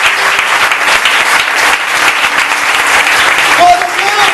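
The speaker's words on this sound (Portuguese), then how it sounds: "Dá uma salva de palmas ao Senhor." A church congregation applauds loudly and steadily after a call to praise during a Portuguese-language sermon, a dense continuous wash of clapping with a few voices calling out near the end.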